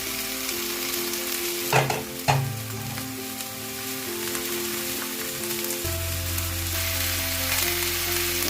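Flat beans (sim) frying with onion in a pan, a loud steady crackling sizzle with two clattering stirs early on, then a constant hiss.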